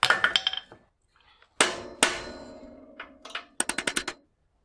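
A heavy hammer strikes the bottom bracket of an old bicycle in several metallic ringing bursts: a quick run of blows, then isolated hard hits with long resonant decay, then another fast volley, loud and close.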